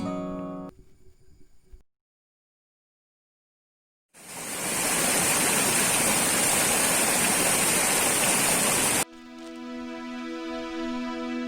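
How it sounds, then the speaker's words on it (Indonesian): After a stretch of silence, a waterfall's loud, steady roar takes over for several seconds; soft music plays before and after it. "akhirnya kami tiba di air terjun"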